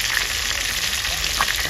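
Tilapia frying in a pan, a steady dense hiss of hot oil holding at an even loudness throughout, close up and with no one talking.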